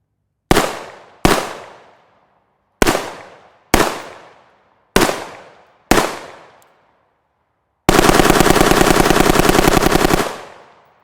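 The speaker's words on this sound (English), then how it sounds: "we are going to be doing the SOCOM suppressor firing table, 240 rounds" Suppressed gunfire from a rifle fitted with a SOCOM suppressor, aimed at steel targets: six sharp, separated shots with quick decays, then a sustained rapid burst lasting about two seconds, loud and close, with no talking.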